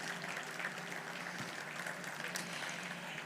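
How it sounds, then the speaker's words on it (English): A crowd applauds at the UPMC Altoona Foundation's Winter Splendor fundraising auction gala, producing a steady, even wash of clapping that stays fairly faint and distant throughout, with no talk above it. "Let's give yourselves a big round of applause for helping us raise that money for the live auction."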